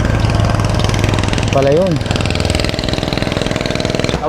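A motorcycle engine idles loudly and continuously with a rough, pulsing chug throughout, while a voice speaks briefly over it.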